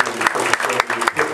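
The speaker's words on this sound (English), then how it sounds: "So everybody give John a round of applause." An audience at a community association meeting applauds their new president, a brief burst of dense, steady clapping with a voice faintly audible underneath.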